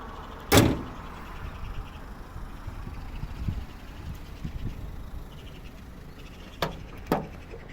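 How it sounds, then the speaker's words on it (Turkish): A car trunk lid being opened, a sharp close latch clunk near the start, then quiet handling rustle, and two more brief thuds toward the end. "Şimdi bagajımızı açalım."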